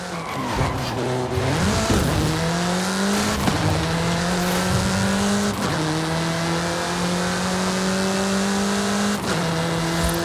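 A car in the Mexico-set racing game Forza Horizon 5 accelerates hard, its engine note climbing and dropping through several gear shifts, with tire squeal and skidding throughout, loud and close.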